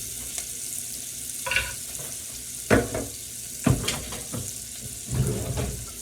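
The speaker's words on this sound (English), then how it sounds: "add your onions. And let that saute in your bacon grease for like a minute." Onions sautéing in bacon grease in a pot, a steady soft sizzle broken by several louder clattering stirs and scrapes, with no voices.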